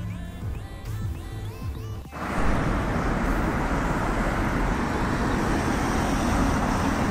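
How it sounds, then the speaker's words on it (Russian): Steady city-centre street traffic noise, a dense broadband wash of passing cars and vehicles that swells in abruptly after a quieter opening and stays loud and continuous, with no talking. "Центр города."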